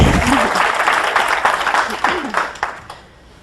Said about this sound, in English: You can clap some more.